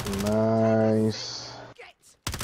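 Weapons being reloaded in Warzone: a sustained droning tone gives way to a short run of mechanical clicks and clacks near the end, fairly close and clear.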